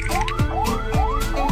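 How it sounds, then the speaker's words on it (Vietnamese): An ambulance siren sounds its level 2 warning tone, a repeating rising whoop that sweeps upward about three times in quick succession, loud and close with traffic hum beneath. "Tiếng còi cấp 2 nghe như oát oát oát."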